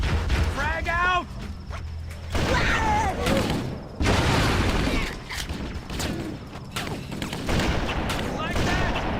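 A grenade goes off amid heavy gunfire in a Halo-style shooter battle with Marines, loud bursts of shots and booms packed densely throughout, with shouting and chatter over the combat.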